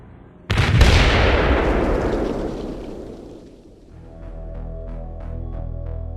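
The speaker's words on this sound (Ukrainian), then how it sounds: "Два вибухи пролунали майже одночасно, і Джахлі розвернувся, скидаючи болтер." A sudden, powerful grenade explosion bursts out, its heavy rumble slowly fading over several seconds before a low, steady drone takes over.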